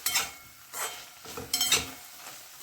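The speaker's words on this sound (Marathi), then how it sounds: "एखाद्या मिनिटासाठी मी हे परतून घेते." Sweet corn sautéed in butter with black salt, heard as a few quiet bursts of stirring and light sizzling, with a utensil scraping and clinking against the pan between pauses.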